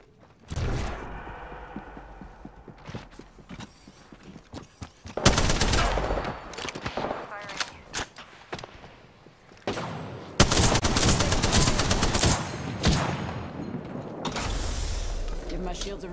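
Gunfire in the battle royale game Apex Legends arrives in loud, dense bursts mixed with mechanical clanks and creaks. The firing alternates with quieter gaps, and a voice speaks between the volleys.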